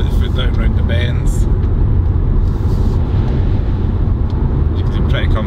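A 2020 Subaru Levorg GT heard from inside the cabin, carrying a steady loud road and engine roar as it accelerates through bends, with brief bits of speech over it.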